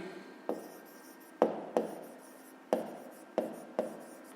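A pen writes out a fifth-grade maths solution on paper in a series of close, distinct strokes, each starting with a sharp scratch that fades into a soft rasp, spaced unevenly over a quiet background.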